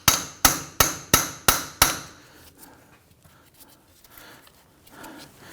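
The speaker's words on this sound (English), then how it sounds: "put it in the center of the axle, and then use your hammer and give that a few whacks" Five sharp metallic hammer strikes on a punch set in the center of a front CV axle of a 2011-2015 Kia Sorento, in a steady rhythm, close and loud, followed by quiet background.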